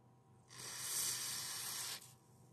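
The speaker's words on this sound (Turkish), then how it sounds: "kontak sprey sıktık yağlı." A single continuous hiss of oily contact cleaner spray on a motherboard CPU socket, about one and a half seconds long, starting and stopping abruptly, close and loud.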